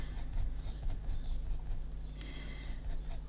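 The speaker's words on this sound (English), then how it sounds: "So I'm just doing short strokes again with the pencil" A pencil makes quick, short scratching strokes on paper while sketching hair texture, soft and close, repeated in a steady patter with no voices.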